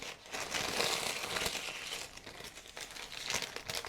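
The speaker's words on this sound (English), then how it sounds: "add this tissue paper on top, crumble it up a little bit" Tissue paper crumpled by hand for a mixed-media art journal layer, a steady close crinkling that swells and eases over a few seconds, quiet and alone with no talking.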